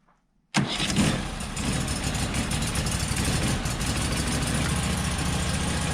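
Norwood HD36v2 sawmill engine cranked cold with the choke on, catching abruptly after a brief silence and settling into a loud, steady, close idle.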